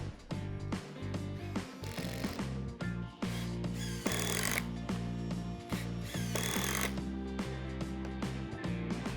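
A power drill drives long screws into wooden picnic table slats, its ratcheting mechanical whir running steadily and close, with bursts of louder grinding as each screw seats.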